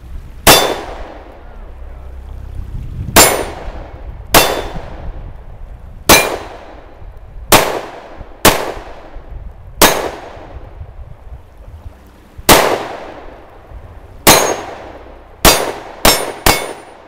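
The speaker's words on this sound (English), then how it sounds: "Let's try that first shot in double action once again" A Sig Sauer SP2022 pistol chambered in .357 Sig is fired in double action, with about fourteen sharp, loud, close reports, each with a ringing tail. The shots come in an uneven series, some in quick pairs near the end.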